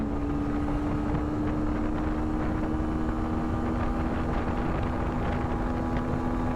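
Steady, droning engine and wind rush from a Bajaj Avenger 160 Street motorcycle accelerating in third gear, a continuous tone with strong wind buffeting and no break.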